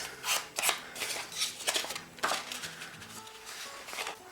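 A sheet of paper folded in half for a corgi pop-up card, close crisp rustling and creasing in several quick bursts.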